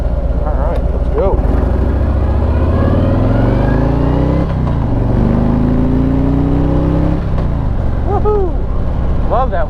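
A Harley-Davidson Street Glide with its 114 engine accelerates hard, its loud, close exhaust rising through the gears in a continuous rumbling surge, with a brief dip and renewed climb midway.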